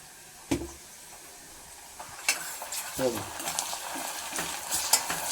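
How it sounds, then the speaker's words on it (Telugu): Ginger paste sizzling and frying in a pan for a goat tripe (boti) curry, with repeated scraping stirs of a spoon against the pan over a steady hiss, close and moderately loud. "ఇదిగో అల్లం పేస్ట్ వేస్తున్నాను"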